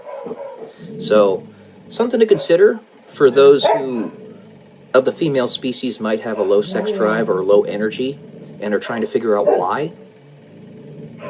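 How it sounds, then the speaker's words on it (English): Dogs bark and yip in the background of a room while a person keeps talking steadily over them, with the barking lower in level than the voice. "Apologies for the dogs."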